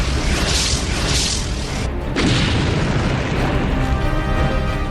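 Artillery and helicopter fire in the Russia–Ukraine war: heavy, continuous rumbling booms and blasts run loud throughout, with a short dip in the middle before the barrage resumes.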